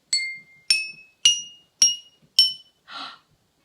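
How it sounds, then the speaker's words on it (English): A homemade xylophone is tapped five times in an even, rising run of bright, ringing notes, each decaying quickly. A sixth, duller knock closes the sequence. The playing is close and clear with no talking. "Did you hear it went up a little bit like a xylophone?"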